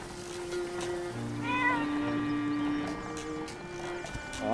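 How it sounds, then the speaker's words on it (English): A cat meows in the video game Zelda: Echoes of Wisdom, a few clear, drawn-out mews that rise and fall over soft game background sound, with no talking. "Oh, no, it's a cat."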